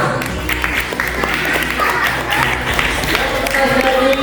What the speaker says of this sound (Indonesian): Tepuk tangan untuk kelas 6.